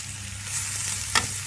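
Finely chopped onions sautéing in melted butter in a pan make a soft, continuous sizzle up close, with one brief scrape of stirring near the end and no talking.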